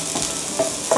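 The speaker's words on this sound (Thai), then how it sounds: "ผัดให้กระเทียมหอม" Chopped garlic sizzles and is stirred in a hot pan with egg as the base for fried rice, a steady close crackle with a few soft scraping stirs.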